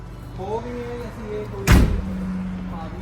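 A house door closes with a single sharp thud amid ordinary household background sound during Diwali preparations, and faint talk is present around it.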